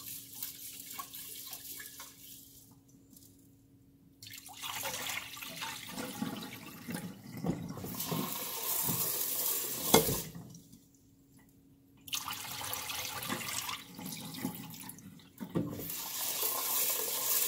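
Water runs from a tap and swishes as rice is rinsed in a bowl, in bursts separated by brief quiet pauses, with an occasional clink.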